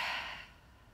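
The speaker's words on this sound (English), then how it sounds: "Open the mouth, a full deep breath out." A single full, deep breath out through the open mouth during a yoga session, a soft airy exhale, close and quiet, fading away within a second.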